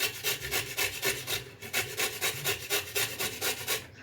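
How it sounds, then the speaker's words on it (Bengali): Peeled raw mango, soaked in water, is rubbed against a grater in quick, regular back-and-forth rasping strokes, about three per second, close and steady throughout. "এটাকে এখন আমি এই গ্রেটারের সাহায্যে ঘষে নেব।"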